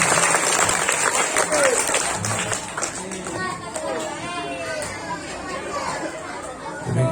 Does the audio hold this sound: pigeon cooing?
no